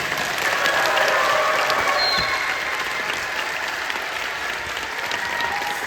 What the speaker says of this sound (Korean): 박수가 그 어떤 공연보다 지금 뜨거운데요.